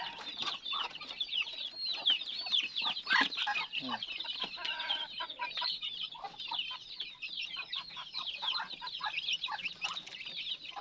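Seven newly hatched ducklings peep nonstop, a dense, fairly faint chorus of high, quick chirps overlapping without pause.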